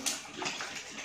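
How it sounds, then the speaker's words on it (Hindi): Water splashes and sloshes as it is poured into a homemade ice air cooler in a village setting, a short, close, continuous rush. "पानी पा लेना"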